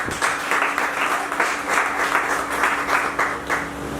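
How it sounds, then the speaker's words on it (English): A room full of people applauds Pastor and Pastor Mrs. Achibo at a marriage-themed church gathering, a lively crowd clapping in pulsing waves with a faint steady hum beneath, continuing evenly from start to finish. "Let's round of applause."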